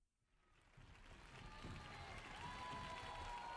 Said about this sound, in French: Toute la foule applaudit Chihiro.